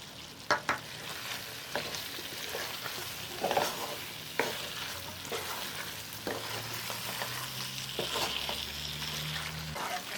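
Chicken liver and gizzard stir-frying street-style with coriander and mint, a steady sizzle with scattered clinks and scrapes of a stirring utensil against the pan, no voices.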